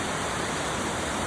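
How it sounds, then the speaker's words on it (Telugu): A stream of water flowing in Manali, a steady, close rushing wash with no break or change in level over its short span. "Stream of water."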